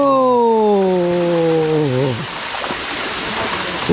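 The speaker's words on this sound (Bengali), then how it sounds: "আস্তে আস্তে আমাদের সামনে কিন্তু ঝর্ণা" A steady, rushing roar of the Ham Ham waterfall in Moulvibazar fills the air. A voice speaks over it at first, then the water continues alone.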